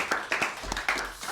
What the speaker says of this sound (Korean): 우리 좋으신 하나님께 영광의 박수 드리겠습니다